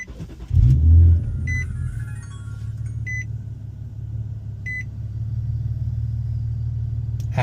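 A car with an aftermarket exhaust starts with a loud low burst and settles into a steady rumbling idle, while several short electronic beeps sound from an anti-theft device.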